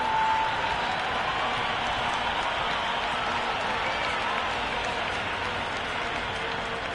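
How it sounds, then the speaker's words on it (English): A cricket stadium crowd at a Karachi Kings versus Islamabad United PSL match applauds and cheers in a dense, sustained wash of clapping and voices that stays loud and even throughout. "The crowd is electric right now."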